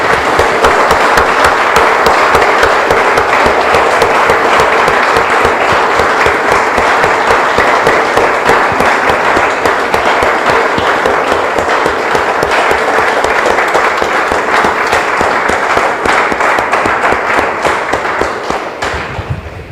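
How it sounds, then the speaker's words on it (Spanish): Church congregation clapping loudly and continuously in a Spanish-speaking service, a dense, crisp burst of many hands that holds steady for about twenty seconds before tapering off at the end. "Damos un aplauso, hermanos."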